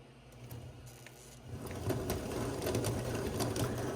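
3rd Rail K4 #1361 model steam locomotive mechanism running with its motion in full forward cutoff, a rapid mechanical whirring and clicking that starts quiet, grows louder after the first second and a half, then holds steady.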